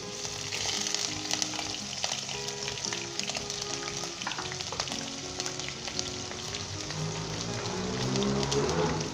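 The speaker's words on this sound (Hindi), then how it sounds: "इसके अंदर अदरक लहसुन डालेंगे हम।" Ginger and garlic fry in hot vegetable oil in a pot, a loud continuous sizzle and crackle with occasional stirring scrapes, swelling slightly louder near the end, with no talk over it.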